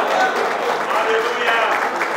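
A church congregation applauds and cheers together in a steady, dense burst of clapping that stays loud and continuous throughout, with voices mixed into the crowd noise.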